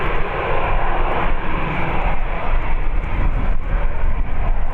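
An EasyJet airliner at Birmingham airport gives a loud, steady broadband roar of jet engines that holds without a break throughout.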